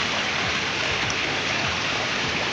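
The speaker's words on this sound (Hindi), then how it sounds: "बारिश फिर स्टार्ट हुई है" Steady rain falling near a rushing stream in a village, a dense continuous hiss of water with no talk.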